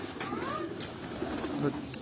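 Soft, close cooing of pet pigeons in short bursts, with faint background noise and no clear talk.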